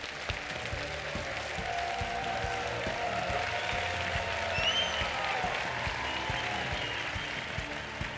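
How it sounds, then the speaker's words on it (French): A large audience at an international dictation contest final applauds the finalists in one long, even round of dense clapping, with faint background sounds mixed in. "On peut applaudir nos finalistes."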